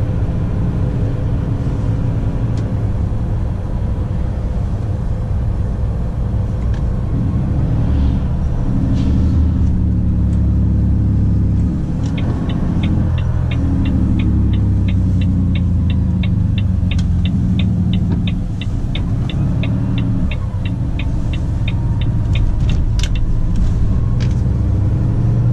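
A Volvo FM 410 truck pulling a long trailer drives with a steady, loud engine drone and road rumble, a faint rapid ticking riding over the throbbing hum partway through.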